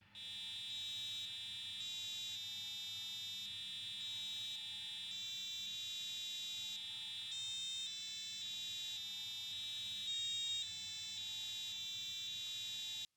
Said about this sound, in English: You can even loop it, change the tempo, or redirect the buzzer to a different pin